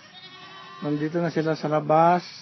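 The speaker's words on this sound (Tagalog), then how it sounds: "Ito yung mga kambing." Baby goats bleat nearby in a few short, wavering cries, with a person speaking over them.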